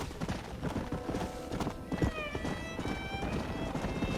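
Horse hooves clip-clopping and a whinny from a horse in the Red Dead Redemption video game, steady hoofbeats running throughout with a high neigh rising midway over game music and ambience.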